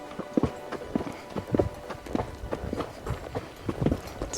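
Horses walk a steep mountain trail near Windy Peak at about 11,600 feet on the Colorado Trail, their hooves striking in a steady, close clip-clop rhythm of repeated sharp thuds, with no talk over them.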